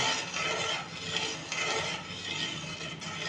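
Coconut milk is stirred into Ramadan nonbu kanji in a pot, with a steady, close scraping and rubbing of the spoon. The stirring runs continuously at an even level and no one speaks.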